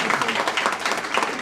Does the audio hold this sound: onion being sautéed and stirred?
no